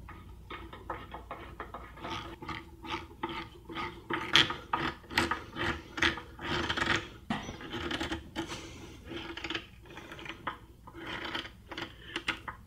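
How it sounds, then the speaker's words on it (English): Wood screws driven by hand with a Phillips head screwdriver into a glued wooden furniture joint, giving a quiet, close series of creaking, ratcheting grinds in short irregular turns, heard alone without speech. "I'm just using a Phillips head screwdriver"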